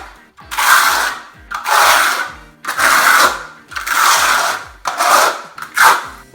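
Rough rhythmic scraping as a trowel spreads adhesive across a floor for laying VCT tile, about six sweeping strokes with short pauses between, close and loud.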